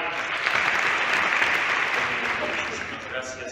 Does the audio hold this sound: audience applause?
yes